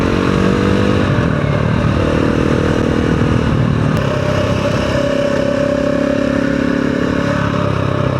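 A KTM 690 Enduro R motorcycle engine running loud and close, with a steady throaty drone and mechanical clatter that shifts pitch slightly as it rides.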